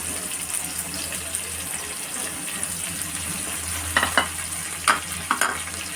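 Green chillies and curry leaves fry in a pan with a steady, soft sizzle. A few sharp clinks and scrapes of stirring come near the end, with no voices.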